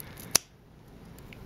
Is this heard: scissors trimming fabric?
yes